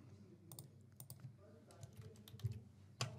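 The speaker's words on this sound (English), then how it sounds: "We will just quickly type." Fingers type on a computer keyboard in quick, irregular clusters of soft clicks and taps, close but faint, with no talking.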